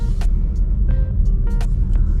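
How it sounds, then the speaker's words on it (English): A car passing another vehicle on a road during a driving test in Brampton, heard from inside as steady low engine and road rumble, with a few brief higher clicks or beeps over it. "So I'm going to pass this car."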